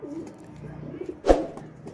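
Low, throaty cooing from Amritsari pigeons in a loft rolls on nearby, with a brief louder burst near the end.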